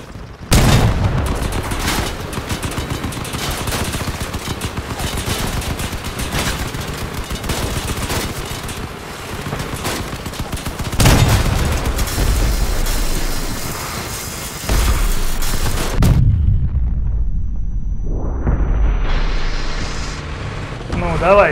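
Vehicle-mounted guns firing in the video game Crossout: dense, loud bursts of gunfire run almost throughout, with a brief drop and a rising mechanical whine near the end; a voice may be talking underneath.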